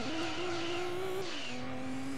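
A Nissan Skyline GT-R in Gran Turismo 2 accelerates with a steady, loud engine drone that climbs slightly in pitch, then drops at a gear change and continues.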